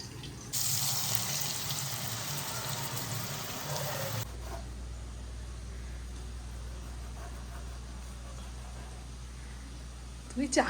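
A water tap pours into washed bottles as they are filled, giving a strong rushing gush for about four seconds that then cuts off, leaving only a low hum in the room.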